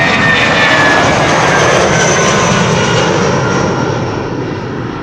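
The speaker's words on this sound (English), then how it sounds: "This is an SAS A319, which looks like it is a Neo," An SAS Airbus A319 jet takes off from Amsterdam Schiphol Airport, its engines giving a loud, steady roar that holds throughout and eases off slightly at the end as it climbs away.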